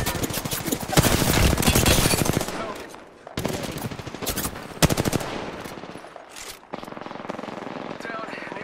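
Rapid bursts of automatic gunfire in a shooter video game come in loud, dense volleys with short pauses between them, and voices are heard over the action.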